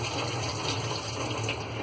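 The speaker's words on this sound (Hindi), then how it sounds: "तब तक हम अपनी दाल धो लेते हैं" Tap water runs steadily as red lentils are washed in a bowl in a home kitchen, a close, continuous gushing pour with no speech.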